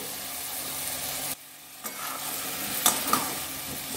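Potatoes, eggs and soybean chunks are stirred and fried together in a pan, giving a steady close sizzle with scraping stirs, a brief lull partway through, then a few sharp clinks of utensil against pan.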